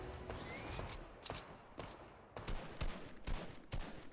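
Bursts of rapid gunfire in the video game Fortnite, several volleys of sharp repeated shots separated by brief pauses, loud and continuous over a game background hum.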